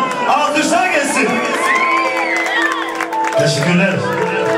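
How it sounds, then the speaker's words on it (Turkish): A family-show studio crowd cheers and whoops, with children shouting and scattered clapping, loud and continuous for several seconds while voices call out over it. "Alkışlar gelsin."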